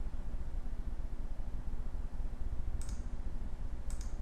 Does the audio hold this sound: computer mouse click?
yes